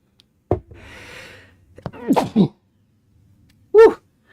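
A single sharp sneeze bursts out, followed by a breathy exhale and a few short vocal sounds, then a brief loud exclamation.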